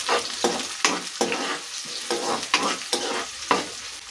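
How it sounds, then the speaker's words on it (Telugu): Onions, green chilies and dried red chilies frying in oil in a pan, a steady sizzle broken by rhythmic scraping strokes of a spatula stirring about every half second, close and clear. "ఇవన్నీ వేగుతున్నాయి కదా"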